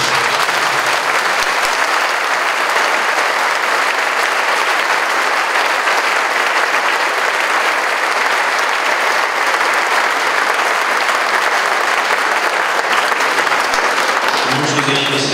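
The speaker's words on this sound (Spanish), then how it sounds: "Les damos un fuerte aplauso." A parish church congregation claps loudly during Mass, a dense, sustained wash of applause that holds steady from start to finish.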